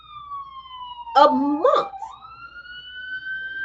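Police siren wailing steadily in the background while someone talks over it, the tone sliding slowly upward as the vehicle passes.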